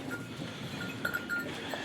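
Goats on a farm in the evening after feeding, with faint scattered bleats and light animal bustle over a steady background, no one talking.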